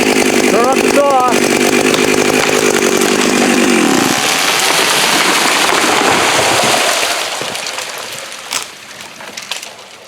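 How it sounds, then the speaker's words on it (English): A vintage metal chainsaw bites into a thick hard maple log in winter, a loud, close, sustained roar that drops off near the end as the cut finishes, with people talking over it. "Turn up the saw."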